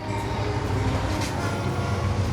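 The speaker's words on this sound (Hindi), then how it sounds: "ट्रेन की आवाजें सुनाई दे रही है" A train rolling along a nearby railway track, a continuous low rumble with rhythmic wheel clatter that stays steady and fairly close throughout.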